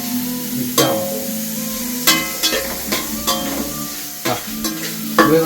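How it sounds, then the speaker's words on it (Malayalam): Mint leaves, onion and coriander are stirred in a hot pan, with a soft sizzle underneath and repeated sharp scraping strokes of the spoon at uneven intervals. "പുതിനേൻ്റെ ഇലയും ഉള്ളി പിന്നെ മല്ലിത്തള ഇത് നല്ല മൂന്നും കൂടി നല്ലോണം മിക്സ് ആവണം."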